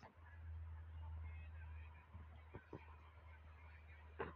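A bird creature in the Garten of Banban video game honks a few times in short, sharp calls over a steady low droning game ambience, with one louder honk near the end.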